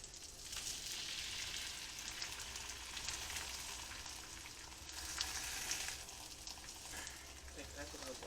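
Birria tacos fry on a stove with a steady close sizzle and crackle throughout and a few faint clinks, while a person talks over the cooking.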